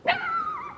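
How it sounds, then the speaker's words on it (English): A dog barks and whines in one short, near, high-pitched yelp that trails into a drawn-out whimper, heard outdoors during a honey bee hive inspection. "What are you barking at, Winston?"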